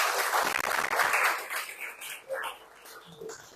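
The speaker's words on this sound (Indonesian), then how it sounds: "kasih aplaus buat Reka" Classroom applause from a group of students for a classmate, a dense burst of clapping that fades over a few seconds, with some voices murmuring underneath.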